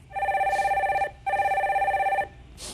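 A telephone rings as a caller is connected on a Korean radio call-in show: two long, loud bursts of electronic ringing separated by a short gap, with no talk over them.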